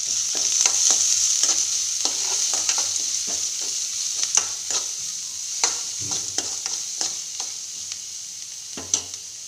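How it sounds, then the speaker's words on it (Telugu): Frying with salt and turmeric in a pan after curry leaves, a bright steady sizzle runs under repeated sharp scrapes and taps of a spatula stirring, close and loud, no talk. "ఇందులోకి కాస్త ఉప్పు వేసుకొని కాస్త పసుపు వేసి బాగా వేయించుకోవాలి"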